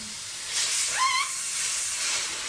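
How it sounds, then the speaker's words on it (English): Compressed air hissing from a cracked fitting on the bottom of a garage compressor tank, a short close sustained hiss with a brief squeaky whistle partway through. "The fitting right here on the bottom of the compressor actually is cracked, so it's leaking out of that"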